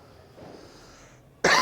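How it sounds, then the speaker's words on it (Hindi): A single short, harsh cough bursts out close and loud at the very end, after a near-silent room with only faint background hiss. "बार बार खांसी हो बेटा"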